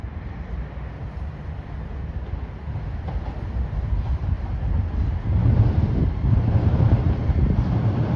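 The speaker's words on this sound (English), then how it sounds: "see if I can get a shot of the train coming out the tunnel" A train rumbles out of a railway tunnel near London's former Heathrow Junction station, its low roar growing steadily louder as it approaches, with wind buffeting the microphone.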